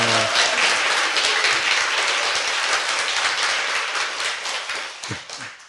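Applause from a political talk show audience greeting a defeated North Gyeongsang governor candidate, dense steady clapping throughout that thins and fades near the end.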